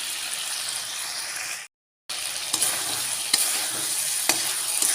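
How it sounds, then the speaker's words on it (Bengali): Chicken pieces with spices stirred and fried in a pan for a chicken kosha, a steady loud sizzle with scraping stir strokes and a few sharp clicks, briefly cut to silence partway through. "ভালো করে মশলার সাথে মাংসের সাথে সমস্ত কিছু মিশিয়ে নিয়ে"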